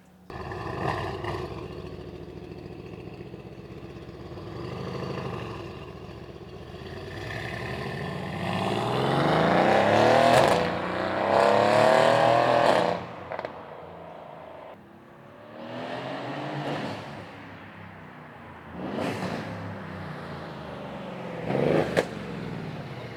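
A Mercedes C63 S engine with a catless downpipe revs hard, rising to a loud roar in the middle and then dropping back, followed by a few sharp blips of the throttle.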